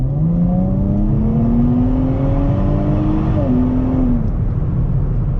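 Nissan Z Sport twin-turbo V6 accelerating hard, a loud continuous engine drone climbing in pitch, then a quick dip at a gear change before climbing again, heard from the cabin with no speech.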